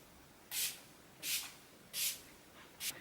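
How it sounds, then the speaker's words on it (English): Urban Decay All Nighter setting spray misted onto a face: four short airy spritzes in a steady rhythm, close and fairly soft, with quiet gaps and no talking. "Go and spray your Urban Decay All Nighter and tell me that doesn't smell like McDonald's lettuce."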